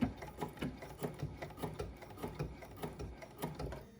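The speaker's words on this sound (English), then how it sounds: "I am going to take a few stitches, just one" A sewing machine stitches through fabric and batting on an embroidery sampler, its needle pulsing in a steady, quick rhythm of about three beats a second, close and moderately quiet with no talking.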